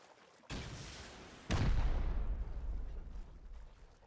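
Turrets firing in the survival game Rust: two heavy blasts about a second apart, the second louder and followed by a rumbling, fading tail, with no talking.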